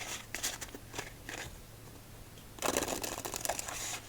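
Kuromi Hello Kitty playing card deck being shuffled, with scattered light riffles and taps early on, then a louder dense burst of card flutter in the second half, close and alone with no talk.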